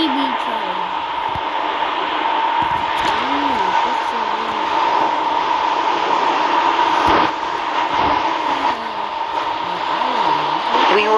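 Class 730 train driven in the Stepford County Railway game: a steady electric motor whine and rolling hum with rising and falling tones throughout, loud and continuous, with occasional faint clicks.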